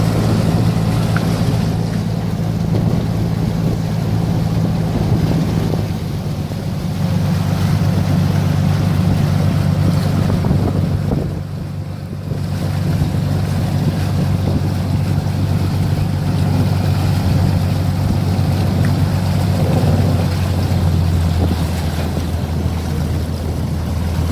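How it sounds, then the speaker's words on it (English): An amphibious tour vehicle driving through water near Cairns, its propeller and engine giving a steady, loud low drone with wash and wind noise throughout, briefly dipping midway, with no voices. "So that big propeller is going to help us when we get down to the water."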